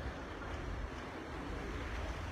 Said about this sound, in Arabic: في هاد اللحظات كاينه رياح عاصفيه قويه